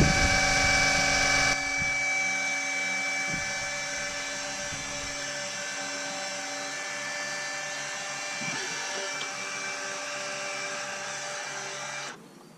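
A small electric pump draws oil out of the engine of a VW T5 2.0 diesel bi-turbo campervan, whining steadily and close up for about twelve seconds before cutting off abruptly.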